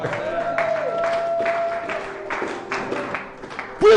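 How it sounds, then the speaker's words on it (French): A church congregation acclaims the word of the Lord with rhythmic bursts of clapping over a sustained sung or organ-like tone, ending with a sharp louder knock. "On acclame la parole du Seigneur."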